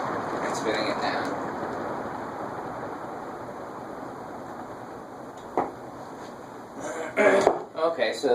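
A J&D Manufacturing CF60 agricultural ceiling fan spinning down, a broad airy rush that slowly fades over several seconds, followed by a few clicks and someone talking near the end.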